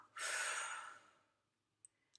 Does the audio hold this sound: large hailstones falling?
no